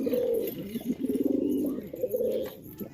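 Pigeons cooing close by, low throaty rolling coos repeated in quick succession over a few seconds, alone with no talk.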